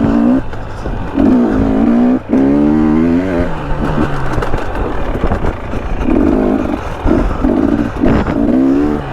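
A KTM 300 dirt bike rides along single-track trail in Utah, its two-stroke engine revving up and down in repeated bursts, loud and close, with some clatter from the trail.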